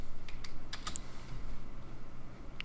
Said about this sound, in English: I will hit enter again.